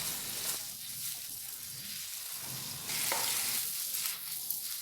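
Meat sautéing in a pan with paprika and minced garlic gives a steady, close sizzle with scraping stirring noises throughout, no talk over it.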